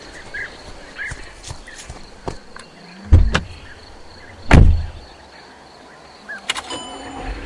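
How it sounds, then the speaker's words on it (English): A door opens with two distinct clunks and a brief creak close by, then a softer rattle, set against a constant background of chirping insects. "Professor Warren hears the door opening and perks up."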